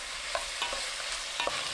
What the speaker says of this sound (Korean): 새우젓 한 큰술 넣고 40초 볶아주세요